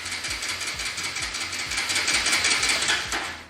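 A Bajaj Pulsar 200 NS motorcycle engine being cranked and run, a steady mechanical whirr with repeated low thumping pulses about every quarter second, fairly close and continuous throughout, no talk.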